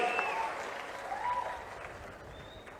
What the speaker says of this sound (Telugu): గట్టిగా చప్పట్లు కొట్టి కలెక్టర్ని, జిల్లా అడ్మినిస్ట్రేషన్ అభినందించాలి